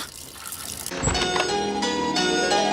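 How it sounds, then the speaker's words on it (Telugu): A leaking tap runs into a kitchen sink, the water starting about a second in and then continuing as a steady, close splashing stream. "నువ్వు ఫోన్ చేసినప్పటి నుంచి ఆ ట్యాప్ కారుతూనే ఉంది"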